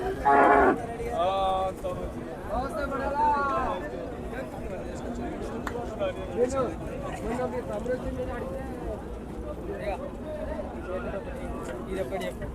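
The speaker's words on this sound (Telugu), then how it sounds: "ఇవి రెండు ఆవులు ఉన్నాయి" Cows moo a few times near the start, fairly close, and people talk over the background of a weekly livestock market afterwards.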